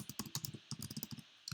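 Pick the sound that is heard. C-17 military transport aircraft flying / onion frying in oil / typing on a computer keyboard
typing on a computer keyboard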